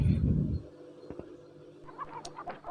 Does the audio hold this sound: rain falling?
no